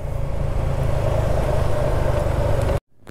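Dense road traffic near Antipolo, cars and motorcycles in a continuous engine drone and low rumble, close and steady, cutting off abruptly near the end.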